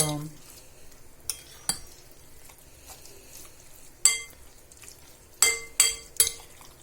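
Spinach and grated cheese tartlet filling being mixed in a bowl, with a handful of sharp clinks and scrapes of the utensil against the side over a quiet background, spaced irregularly and close.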